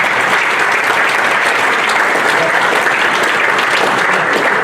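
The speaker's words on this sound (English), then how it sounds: "just a round of applause for Paul" A large audience applauds an award recipient at an awards event, a loud, dense, continuous wash of clapping that holds steady throughout.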